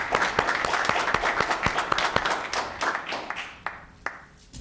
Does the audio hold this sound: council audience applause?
yes